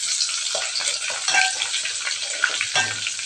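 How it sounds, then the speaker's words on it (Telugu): Fenugreek seeds, crushed garlic and three or four dried red chilies sizzle steadily in a hot pan, with intermittent scraping stirs and small crackles throughout, close and clear with no talking. "కొంచెం గోల్డెన్ బ్రౌన్ కలర్ వచ్చేదాకా కలపండి."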